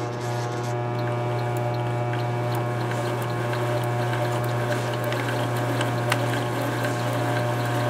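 A coil winding machine winds 23 AWG wire, giving a steady motor hum with a strong low drone and even overtones, constant and close, with faint ticks above and no talk.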